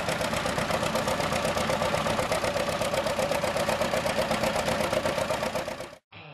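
An old tractor engine runs at a steady idle, a loud, close, rhythmic chugging throb that holds constant before cutting off abruptly near the end.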